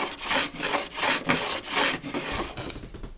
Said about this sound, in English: I'm going to hit it with a hand plane anyway